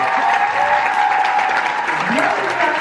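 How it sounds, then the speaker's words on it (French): A conference audience in Paris breaks into steady applause welcoming Nana Wax founder Maureen Ayite, continuous close clapping throughout the short stretch with faint voices murmuring beneath it. "des applaudissements."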